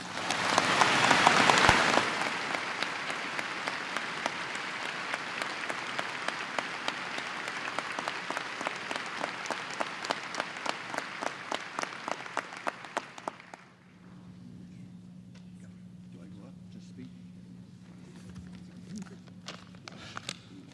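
At a Lake Area Technical Institute commencement, a large crowd breaks into loud applause that thins into a steady patter of distinct claps, then cuts off abruptly, leaving a quiet hall hum.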